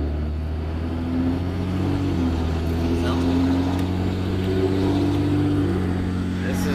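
A motorboat engine runs at about one-third throttle, a steady low droning rumble with a slight rise in pitch, heard close and loud while someone talks over it.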